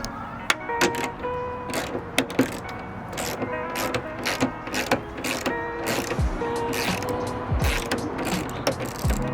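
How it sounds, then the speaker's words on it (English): Repeated ratchet clicks from a socket wrench loosening the spoiler bolts on a Honda EP3 Civic Si, sharp close-up bursts of clicking scattered throughout with light mechanical clatter between. "We'll start by unbolting the other sides."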